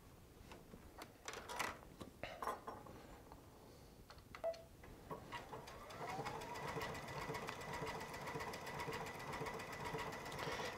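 A Baby Lock Altair sewing machine stitching metallic cording bobbin work runs steadily, its motor hum and rapid needle ticking coming in after a few scattered clicks and handling noises at the start.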